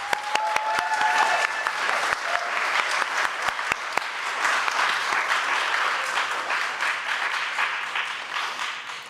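A church congregation gives a sustained round of applause for Nancy, dense clapping from many hands that swells and holds steady, with a few sharper claps near the start.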